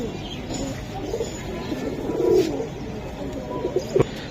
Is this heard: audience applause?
no